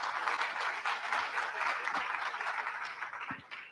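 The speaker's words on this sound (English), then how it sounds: "With a round of applause" A conference audience applauds to welcome a speaker on stage, a sustained crowd clapping heard somewhat distant, with a few low thumps near the end.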